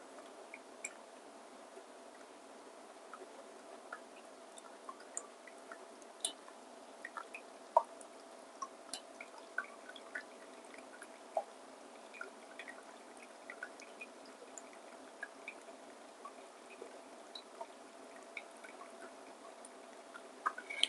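Coffee drips through a flat-bottom filter after a pour of water in a MHW-3BOMBER filtered coffee set-up, with faint, irregular small drips and soft trickling at close range over a quiet background.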